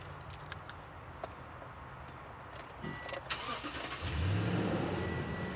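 A Toyota Tundra pickup truck engine cranks and catches after a few seconds of quiet clicks and handling noise, then settles into a steady, close idle rumble.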